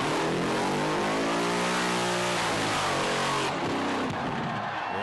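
Mazda 1000 with a supercharged LS1 V8 revving hard during a burnout competition, a loud, sustained roaring engine climbing and falling in pitch over a wash of tyre and crowd noise, with no talking.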